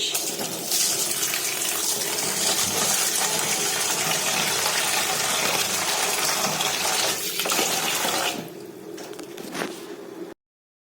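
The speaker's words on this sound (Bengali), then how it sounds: "আগে ডালটা ধুয়ে দিই চলো ডালটা বসিয়ে দিই" Lentils are rinsed under a running kitchen tap, with a steady close gush of water splashing for about eight seconds before easing to a softer trickle and stopping.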